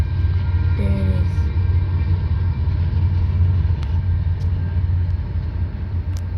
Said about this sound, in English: See that? They rumble.